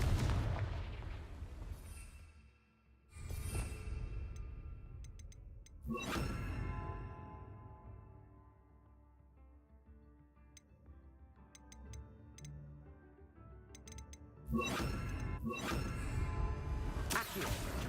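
Confringo blasting spell fired in the Hogwarts Legacy video game, heard as several sharp booming explosions with whooshing bursts, separated by quieter stretches of ticking game ambience.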